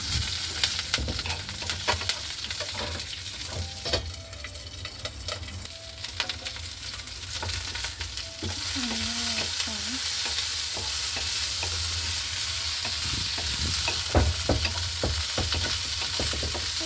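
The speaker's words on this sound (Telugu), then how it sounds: "తర్వాత నెక్స్ట్ పచ్చిమిరపకాయలు వేస్తున్నాను" Green chillies fry in a hot pan, a constant sizzle under repeated scraping stirs and clinks, growing denser and louder partway through, with no speech.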